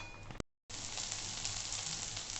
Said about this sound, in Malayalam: ഉള്ളിയും തക്കാളിയും കറിവേപ്പിലയും ഇഞ്ചും വെളുത്തുള്ളി ഇതൊക്കെ കൂടി എണ്ണയിട്ട് വഴറ്റി